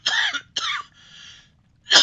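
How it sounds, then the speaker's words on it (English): A man clears his throat with three rough, close bursts spaced across about two seconds, the second trailing off into a softer rasp before the last loud one. "I gotta clear my throat here."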